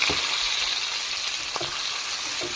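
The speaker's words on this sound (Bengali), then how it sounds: "পেঁয়াজগুলো ভালোভাবে লাল লাল করে ভেজে নিতে হবে" Chopped onions fry in hot oil with panch phoron, a steady bright hiss of sizzling fat with a few faint stirring knocks, close and continuous.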